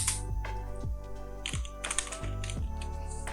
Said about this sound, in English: After typing some keywords